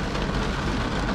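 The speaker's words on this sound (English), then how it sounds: "The rain is getting heavier." Heavy rain drums on a BMW 1 Series car, a dense, loud and steady wash of broadband noise across the whole short moment, with no voices.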